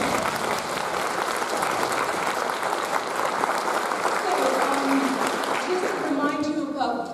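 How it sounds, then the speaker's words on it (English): Sustained clapping from an audience fills the clip, with a voice starting to speak near the end. "Give her a round of applause."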